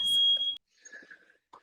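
An office building's fire alarm sounds during a scheduled test, one loud steady high-pitched electronic beep lasting about half a second, then cut off, followed by faint background murmur.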